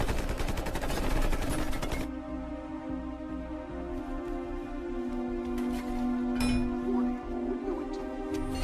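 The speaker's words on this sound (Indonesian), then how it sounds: "Fury berhasil menyerang balik dengan senjatanya dan berhasil melarikan diri" Gunfire erupts during a car escape in Captain America: The Winter Soldier, a dense burst of rapid shots for about two seconds before it gives way to lingering ringing, whining tones.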